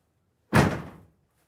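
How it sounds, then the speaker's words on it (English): A Ford Transit van's rear door slams shut once, close and loud, ending in a brief rattling thud, with near silence before and after. "So as we slam the door, we're just going to hold the panel."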